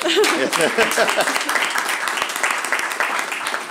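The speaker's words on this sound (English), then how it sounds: "I see we're about to clap, so why don't we?" Clapping from the audience at a police services board meeting, a dense, steady round of applause from a roomful of people, loud and sustained, with some voices mixed in underneath.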